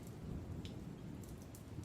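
Rain falls on a lake in the wind in a horror audio drama, a soft, continuous hiss of drops over a low, steady rumble, fairly faint and with no voices.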